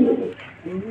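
Pigeons coo close by in a brief, soft burst, a low throaty call that fades and then rises again, with no talk over it.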